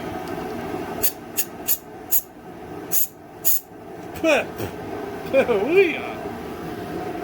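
Several sharp bursts of 120 psi compressed air hiss in quick succession into a junked generator's engine, followed by a voice speaking over a steady mechanical hum.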